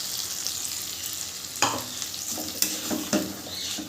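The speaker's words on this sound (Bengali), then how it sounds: "এবার এই অবস্থায় আমি এই যে মশলার পেস্টটা বানিয়েছি সেটা এর ভেতর দিয়ে দেব।" Spice paste stirred into tomatoes frying in a pan for a vegetarian paneer dish: a steady close sizzle with a few sharp spoon scrapes and knocks against the pan, no voices.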